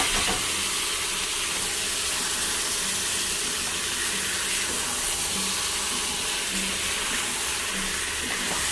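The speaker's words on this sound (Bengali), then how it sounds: "মশলাটা কষা হয়ে গেছে তো মাংসটা দিয়ে দেবে এবার মাংসটা দিয়ে কষিয়ে নেব" Mutton goes into a pan of fried spice paste for a Bengali mutton dish, giving a steady, even sizzling hiss that carries on unbroken, close and fairly loud, with no talking.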